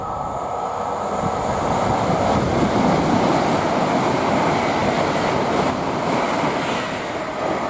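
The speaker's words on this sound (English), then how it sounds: "the next train to pass by, we've got an 807 heading to Liverpool Lime Street" A Class 807 electric train runs past on the West Coast Main Line at Nuneaton, bound for Liverpool Lime Street, making a steady, loud, broadband rumble and rail roar for the whole stretch with no talking.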